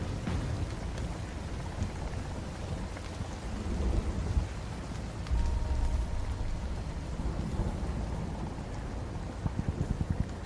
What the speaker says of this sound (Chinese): 等一下，我们还在直升机上面呢，不要打雷啊！